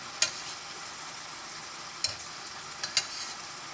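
Butter simmering in a pot as it cooks down into clarified butter (ghee), a constant soft sizzling hiss broken by a few sharp pops and crackles.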